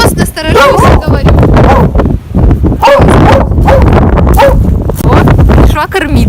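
On an Icelandic farm in squally wind, a dog makes repeated yips and whimpering barks at close range while people talk over it and wind rumbles against the microphone.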